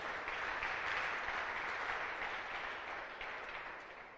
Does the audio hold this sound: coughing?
no